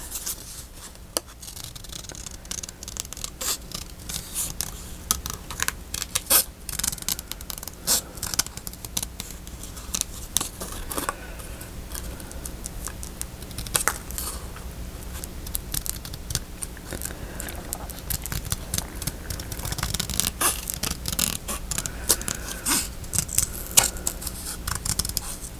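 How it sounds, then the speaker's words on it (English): Small scissors snip steadily through paper at close range, a long run of crisp, irregular cuts with soft rustling between them. "Small scissors, please."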